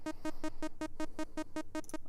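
A synthesized beep from a generative music patch repeats steadily, about ten evenly spaced short tonal pulses at a quick, regular pace, clean and alone with no talk.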